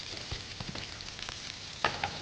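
Coriander-coated fish shallow frying in oil, a soft steady sizzle with scattered crackles and a brief louder pop near the end, no talk.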